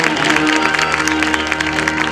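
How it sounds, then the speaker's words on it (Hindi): An audience breaks into brief, steady clapping at a religious gathering in Shalimar, Agra, a dense patter of many hands close by. "ताली लगेगी इस बात पर।"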